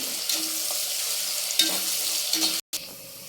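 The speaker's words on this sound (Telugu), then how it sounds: "ఆనియన్స్ బ్రౌన్గా వేగాయి కదా, ఇలా బ్రౌన్గా వేగాలండి." Sliced onions sizzle and fry in hot oil until brown as the base for chicken fry biryani, a steady close crackling hiss with occasional stirring scrapes and a brief break near the end.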